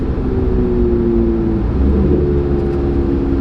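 Twin-turbo Corvette C8 Z06 engine under acceleration, a steady deep droning roar holding close and loud throughout with no voices.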